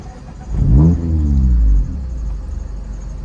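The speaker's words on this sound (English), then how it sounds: "The exhaust sounds really good on it." A 2019 Mazda ND Miata engine revs sharply once, a deep, throaty exhaust roar swelling and falling back to a steady idle rumble.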